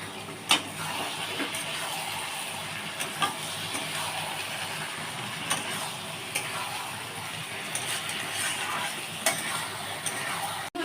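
Okra and shrimp curry sizzles steadily in a pan after a mustard and green chili paste goes in, a continuous moderate hiss with occasional small pops and stirring clicks, no voices.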